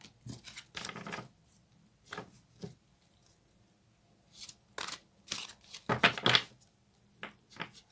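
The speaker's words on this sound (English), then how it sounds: "Let's see if we can get a cleaner shuffle." Fairy tarot cards being shuffled close by, in quick riffling bursts and soft slaps separated by short pauses, crisp and intimate in a quiet room.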